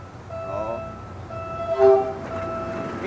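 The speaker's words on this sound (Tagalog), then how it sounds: "Paparating yung tren." PNR commuter train passing at a level crossing in the Philippines, its horn sounding in loud sustained blasts over rumbling wheels and a brief louder swell near the end.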